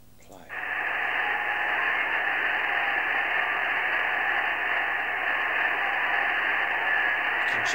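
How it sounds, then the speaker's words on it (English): Recorded 800 Hz radio tones from an auroral propagation experiment play as a steady, loud band of hissy, noisy signal. It starts abruptly about half a second in and holds unbroken to the end, with no speech over it. "we're going to play one of the 800 hertz files, and you can actually hear the tones"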